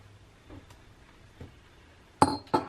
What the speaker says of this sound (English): Did I just break this glass?